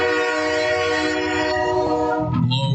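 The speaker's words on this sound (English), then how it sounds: "The train!" A train horn blares loudly and steadily with rich layered tones, holding for a few seconds before shifting pitch near the end over rumbling rail noise.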